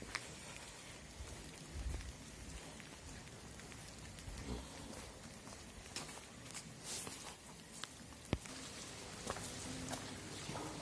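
Heavy rain pours down outdoors, a fairly faint but dense patter of drops on surfaces with a few sharper splashes and knocks scattered through it.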